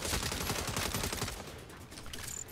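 Rapid automatic gunfire in the video game Saints Row (2022), a dense, loud stream of shots that thins out toward the end, with no talk over it.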